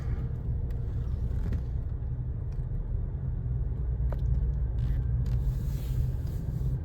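A car rolls through St. Paul past a construction site where new units are going up, its steady low road rumble continuing alone and close throughout with no talking.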